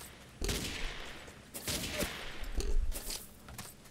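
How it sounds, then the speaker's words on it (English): A malfunctioning gun in the blocky shooter Ace of Spades fires off a rapid string of shots on its own, several dense bursts of gunfire over about three seconds, close and sharp, with no talking. "It just fired off all 10 shots without any reason."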